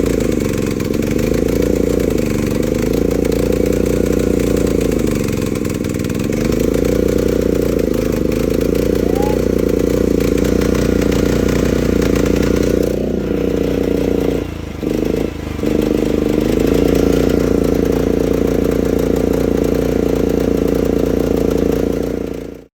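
A Chinese mini excavator's small engine runs steadily close by while purging air from its carburetor, a loud continuous chugging idle with slight fluctuations and brief dips in revs.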